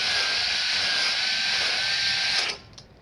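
A cylinder hone spun by a drill works inside an engine cylinder, a loud continuous high whine that holds steady and then cuts off abruptly near the end.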